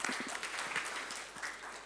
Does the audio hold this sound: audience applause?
yes